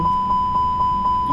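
Regular electronic cockpit warning beeps from Microsoft Flight Simulator 2020, a steady tone pulsing about four times a second, loud and continuous with no talk.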